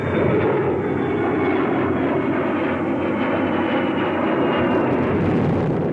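RAF aircraft approaching the airfield at Cranwell in 1957, a loud, steady, continuous engine roar that fills the whole stretch without letup.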